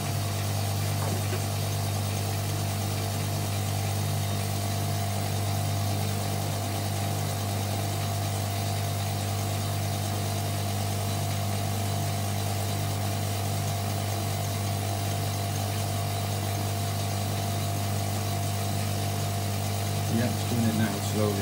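Hotpoint Supermatic De Luxe 9414W twin tub washing machine running, a steady loud motor hum with a constant low drone throughout, with people talking nearby.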